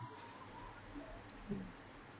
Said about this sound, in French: si je clique sur Login